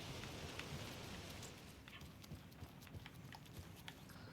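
Steady rain in Alan Wake 2, a dense soft patter of drops falling on surfaces with scattered sharper taps, continuous and fairly faint, heard without voices.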